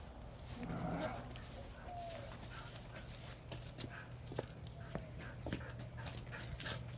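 Dogs whimper and move about nearby, with soft clicks and scuffles over a steady low hum, fairly quiet overall.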